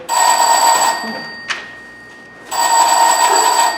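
Telephone bell ringing loudly and close in two long bursts separated by a quiet gap with a brief knock, the bright metallic trill sounding alone in a stage setting.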